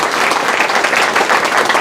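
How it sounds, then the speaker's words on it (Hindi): Dense, steady applause from a large audience at a business presentation, loud and continuous for the whole short stretch with no talk over it. "ताली नहीं बजाओगे?"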